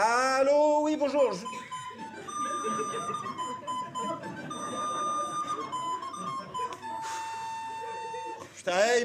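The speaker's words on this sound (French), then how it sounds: "Putain, ils m'ont mis en attente" Telephone on-hold waiting music from an administration's line, a thin electronic melody of sustained tones and short beeps playing through a phone, with faint voices occasionally underneath.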